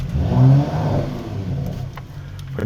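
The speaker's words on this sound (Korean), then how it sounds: "배기 팁이 열려서 배기음이 엄청난 폭발음으로 들린다라고 보시면 될 것 같네요" A Mercedes-AMG GT 43 engine revs up loudly and then settles into a steady, rumbling idle with a deep exhaust tone.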